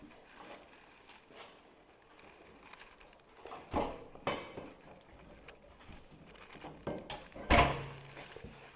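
Door latch on a Can-Am Defender fitted with Super ATV vault doors, worked open and shut, giving a few sharp thunks and clicks spaced apart, the loudest near the end, over quiet background rustle.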